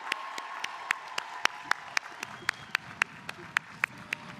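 Sharp, evenly spaced claps ring out at a commencement ceremony, sounding like a few hands keeping a steady rhythm over a faint wash of background noise, each clap distinct and fairly close.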